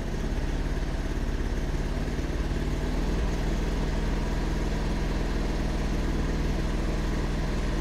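An Argo 8x8 amphibious vehicle engine runs close and loud, a dense steady mechanical drone with a rising pitch as the revs are brought up, then held at a constant higher speed.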